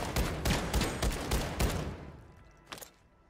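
A new shotgun fires in Warzone 2 on Ashika Island, a burst of heavy, close booming blasts over the first two seconds, then a lone fainter shot near the end.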